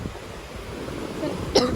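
A single short cough near the end, close by, after a stretch of soft wind and distant surf on Sanibel Island.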